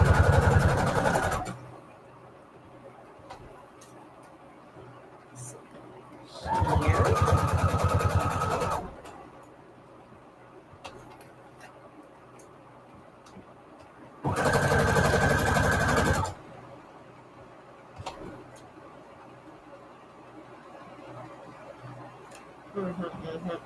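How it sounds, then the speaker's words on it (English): A sewing machine stitches paper strips onto cardstock for prayer journal embellishments, running in three steady mechanical bursts of a few seconds each, with quiet gaps between them and no talk. "I am sewing cardstock on"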